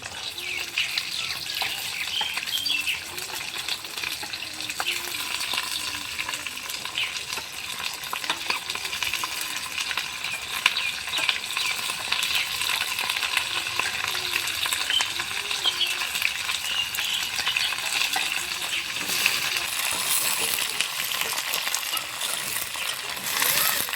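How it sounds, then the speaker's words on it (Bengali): Onion and capsicum frying in oil with dried red chilli and bay leaves for chilli paneer, a loud, continuous close sizzle with occasional scraping stirs and clinks against the pan. "কিছুক্ষণ পেঁয়াজ আর ক্যাপসিকাম ভেজে নেব।"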